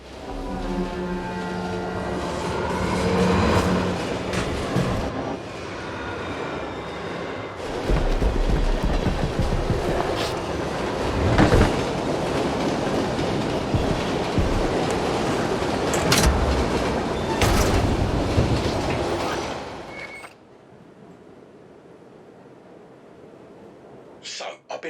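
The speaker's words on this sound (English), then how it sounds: "the train is a VIP transport, charged with ferrying a good portion of MG's upper brass to a very posh private resort" Train rumbling along the tracks in a video game, a VIP transport carrying upper brass to a private resort; loud steady rolling with clacks for about twenty seconds, under speech, then dropping to near silence.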